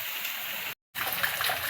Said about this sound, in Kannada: ಇಲ್ಲಿ ನೋಡ್ರಿ, ನೀರು ಬಂದಾವ. ಮೋಟ್ರ್ ಚಾಲು ಆಯಿತು.